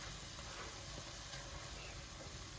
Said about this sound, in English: So I'm going to cook that paste off for a bit, a couple of seconds